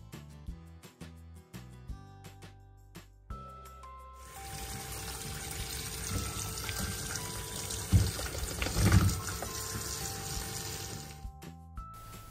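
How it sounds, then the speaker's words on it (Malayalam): Tap water runs steadily for several seconds over butter mushrooms being washed in a kitchen sink, with some splashing and handling noise, then cuts off. Short kitchen clatter comes before and after. "ഇനി ഇതാദ്യം കഴുകിയിട്ട് ഇതിൻ്റെ തൊലിയെല്ലാം കളഞ്ഞിട്ട് പിന്നെ ഒന്നും കൂടി കഴുകി അടിക്കണം"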